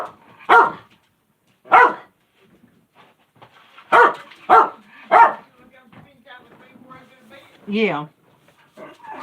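Several dogs bark in loud, close bursts of single and doubled barks with short gaps, ending in a higher whining yelp, while a person talks briefly between them.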